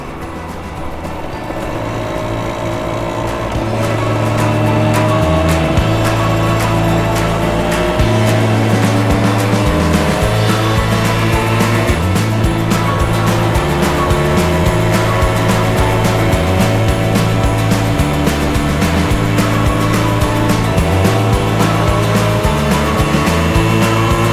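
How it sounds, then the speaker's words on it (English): Two classic Yamaha DT100 two-stroke motorcycles ride along with a loud, steady buzzing engine drone that rises and falls in pitch as they change speed, continuous throughout. "First ride out, and 2 classic 2-strokes, just me and my lad."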